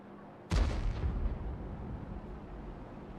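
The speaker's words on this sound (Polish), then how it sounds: "Strzały na razie padają na linię 9-0." A single loud tank cannon shot in World of Tanks, heard during a match between Poland and Ukraine, is a sharp blast followed by a rumbling decay lasting a couple of seconds, with no talking.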